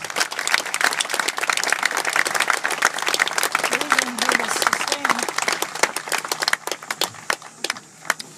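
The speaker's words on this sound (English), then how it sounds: "Let's give them a round of applause." Outdoor crowd applause at a memorial field dedication, brisk individual claps standing out sharply, a brief voice murmuring in the middle, thinning out toward the end.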